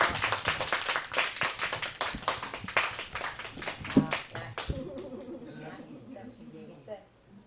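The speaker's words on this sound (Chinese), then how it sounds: "那我们热烈的掌声。" A small gathering of listeners gives a round of clapping, close and fairly sparse, that fades out after about five seconds, after which a voice speaks over faint room noise.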